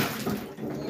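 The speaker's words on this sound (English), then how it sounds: "The actual water coming out the tap is a bit cold as well" Cold tap water runs steadily into a bath for a cold plunge, a continuous close rushing splash that fills the whole moment with no voices.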